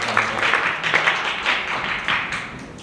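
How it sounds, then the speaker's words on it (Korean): At a youth biodiversity forum on renewable energy, the audience applauds a presenter. The applause comes as a short series of soft, muffled bursts, steady and moderately loud, with no speech over it. "박수 부탁드립니다"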